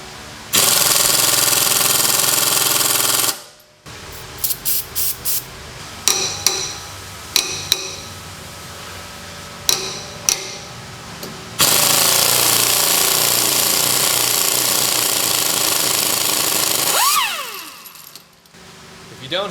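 A compressed air impact tool works on a Honda Civic or Acura Integra rear suspension fork. Loud, close bursts of rattling hammering alternate with short clicking pulses and a longer sustained run.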